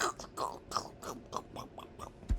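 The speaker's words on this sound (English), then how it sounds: "That's the munching on the crackers" Crackers are munched close up in a quick rhythmic series of crisp crunches, about eight bites over a couple of seconds with no talking.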